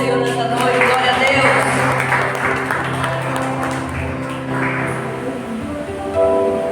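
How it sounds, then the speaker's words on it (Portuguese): Church congregation clapping along during an evening worship service, a steady dense patter sustained throughout over music and voices. "As palmas louvam ao Senhor nessa noite"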